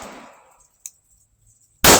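A single sharp report from a Smith & Wesson M&P 2.0 pistol fed from a 30-round ETS magazine, fired outdoors, comes after a decaying tail and a faint click, loud and abrupt at the end.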